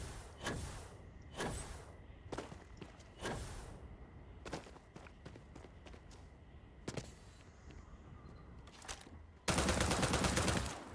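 An automatic weapon firing in Starfield, sharp separate shots and brief bursts spaced across the clip over a low ambient hum, ending in a loud sustained blast of noise.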